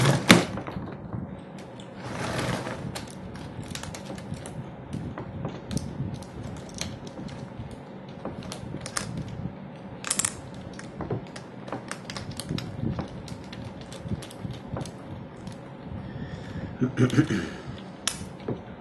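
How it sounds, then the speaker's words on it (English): Battery cell connections being unbolted while assembling a 6P 7S BatteryBlocs pack: close metallic clicks, ratcheting and scraping of a tool on bolts and washers, irregular and busy throughout, with a few sharper clacks. "So I'm going to go ahead and unbolt this"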